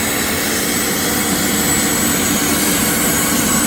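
An aircraft at an airport taxis, giving a steady, loud engine roar with a broad whine that holds evenly throughout and has no talk over it.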